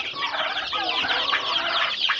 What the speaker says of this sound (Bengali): এক মাসের দেশি মুরগির বাচ্চাগুলো, 1 মাস প্লাস দেশি মুরগির বাচ্চা